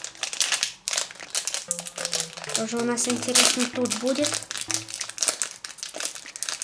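Crinkly plastic packets of Skrepyshi collectible toys torn open and rustled by hand, a busy crackling texture running throughout under a person talking.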